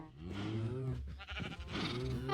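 Sheep bleating in the farming video game Lunaria, a couple of wavering, nasal bleats close by over a steady background hum.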